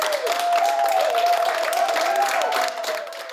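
Clapping from staff gathered in a hospital setting where a COVID vaccine is being given, a broad steady patter of hands with a sustained tone running beneath it throughout.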